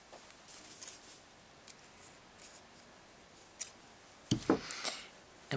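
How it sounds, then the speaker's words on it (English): Scissors snip off crochet thread on a simple coaster, a few faint rustles of yarn followed by a cluster of sharp, close snipping clicks near the end, with no talking. "then we're going to cut off the thread"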